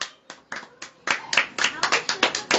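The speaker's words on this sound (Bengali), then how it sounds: "হাততালি দেবে।" Children at a school Mother's Day celebration clap their hands, a string of sharp, close claps that starts sparse and speeds into a quicker, denser run, with no other sound.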